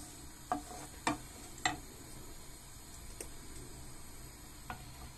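Onions frying in hot oil in a pan over fairly high heat, a faint crackling sizzle broken by a few light scraping taps of a utensil.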